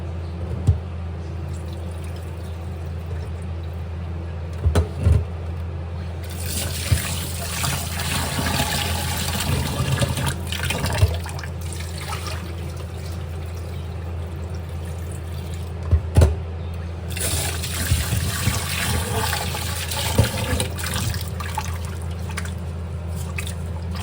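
Rice being washed in water, with continuous splashing, sloshing and trickling that swells and eases across the stretch, plus a few sharp knocks of the container. A steady low hum sits underneath.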